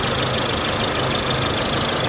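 A Ford 2.0 EcoBoost engine idles with a steady, close, broadband hum and faint ticking, uninterrupted and with no voices.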